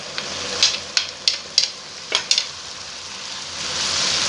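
Finely chopped tomatoes sizzle in a pan with chicken macaroni, a steady fry broken by a string of sharp stirring scrapes and clicks near the start, then settling into an even hiss.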